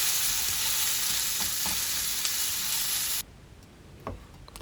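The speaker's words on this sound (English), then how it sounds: "Chop 2 onions like me and fry them until the color changes to golden." Two chopped onions frying in a pan give a steady, dense sizzle that stops abruptly partway through, leaving quieter background noises.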